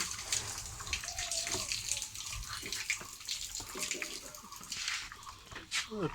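Water pours and splashes into wheat-bran feed for Qurbani goats in Faridpur, trickling and gurgling close by in uneven bursts while people talk quietly in the background.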